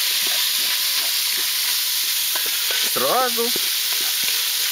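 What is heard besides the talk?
pork fat (salo) frying in a pan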